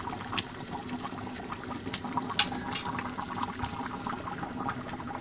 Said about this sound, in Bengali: একবারে লো হিটে চুলা দিয়ে আরও মাংস নরম মতন ফুটিয়ে নিব